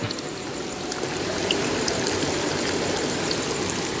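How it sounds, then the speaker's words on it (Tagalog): A strong, steady rush of running water, loud and close, like a hose or stream pouring hard without pause. "So, ayan, malakas na yung tubig."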